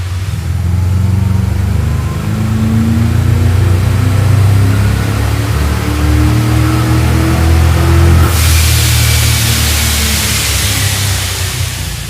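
A supercharged 1967 muscle truck roars steadily on a chassis dyno, its engine note climbing gradually under load in one continuous loud pull, with a hissing wash of noise rising near the end.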